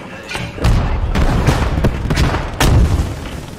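A Panzerfaust fires in a World War II D-Day video game, giving a heavy booming blast amid a rumbling battlefield of scattered shots and thuds, with a second loud boom near the end.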